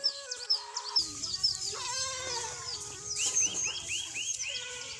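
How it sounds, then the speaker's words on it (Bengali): Goats, male castrated goats on a rural homestead, bleat repeatedly at close range, with chickens clucking and other farmyard calls mixed in. "এই দুইটা খাসি আমার, আরেকটা কালো খাসি আছে।"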